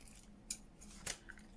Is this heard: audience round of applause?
no